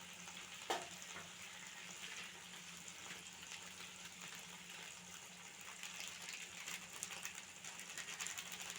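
Spices sizzle and fry in a pan with mustard greens and water, a steady close crackle with faint stirring scrapes and one sharp clink near the start.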